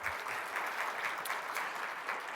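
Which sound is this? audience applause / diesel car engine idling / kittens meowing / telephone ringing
audience applause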